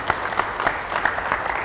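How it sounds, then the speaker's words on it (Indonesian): A church congregation claps together during an Indonesian sermon, giving steady, dense applause with crisp individual claps standing out throughout. "Berikan tepuk tangan untuk Tuhan."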